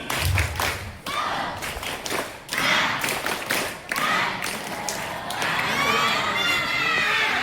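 Schoolchildren at a school gathering perform a patterned clapping cheer together, with loud, irregular group claps mixed with shouting voices and crowd noise throughout.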